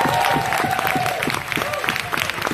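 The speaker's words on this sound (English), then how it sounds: "Big round of applause for Bob for putting this together." Applause from a theatre audience at the close of a Valentine's comedy special in a library theatre in Luton, a dense, steady wash of clapping filling the whole stretch with a sustained tone running beneath it.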